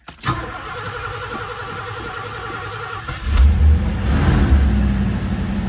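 A 1984 Mercury Capri ASC McLaren convertible with a 5-liter V8 cranks with a steady starter whir, then catches and fires into a loud, rumbling idle close by with a brief rev.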